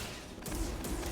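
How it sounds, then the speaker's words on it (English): A missile launched in Star Wars Jedi: Fallen Order, a brief loud whooshing blast with a low rumbling boom, dense and close, with no talk. "That's a missile."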